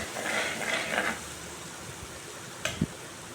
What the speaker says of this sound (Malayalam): ഞാനിവിടെ ഒരു 3-4 സ്പൂൺ വെളിച്ചെണ്ണ ഒഴിച്ചിട്ടുണ്ട്. അതിലേക്ക് ഇഞ്ചി വെളുത്തുള്ളി പേസ്റ്റ് ഇട്ട് കൊടുത്തിട്ടുണ്ട്.